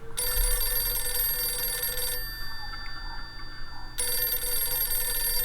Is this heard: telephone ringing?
yes